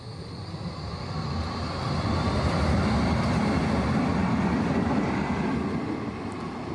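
A Frankfurt U-Bahn U5 series railcar in service since 2008 runs past. It makes a steady low rumble that swells and holds, with a faint high whine riding above it.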